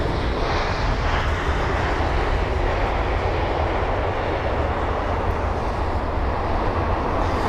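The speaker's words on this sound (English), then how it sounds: "There's the Lufthansa A320 Neo." A Lufthansa Airbus A320neo arriving at London Heathrow, its engines a steady, loud broadband roar that holds level throughout without letting up.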